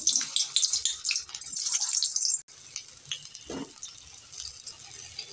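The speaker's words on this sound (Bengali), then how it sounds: "এবার আমি সেদ্ধ আলুটাকে ভেজে নেব।" Boiled potatoes tipped into hot mustard oil in a wok, a loud bright sizzle and hiss for a couple of seconds that cuts off, then settles into a quieter crackle with a brief stirring clatter.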